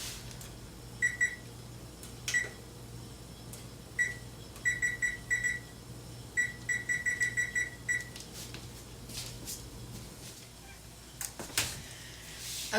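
A kitchen timer signals the end of a focaccia bake in the oven, sounding clusters of short, bright electronic beeps in irregular bursts over a low, steady background hum.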